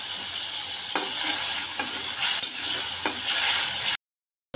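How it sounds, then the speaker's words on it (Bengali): Cow tripe fries in hot oil with cinnamon, cardamom and bay leaf, a bright continuous sizzle broken by several soft scraping strokes of a spatula before the sound cuts off abruptly near the end. "এগুলাকে ভালো করে আবারও তেলের মধ্যে আমি কষিয়ে নিব"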